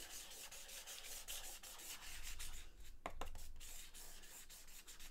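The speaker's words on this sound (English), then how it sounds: "I'm just smoothing that in." Gritty charcoal being smoothed across paper in repeated quiet rubbing strokes, a soft scratchy swish with a steady rhythm and a few sharper scrapes midway, close and alone without talk.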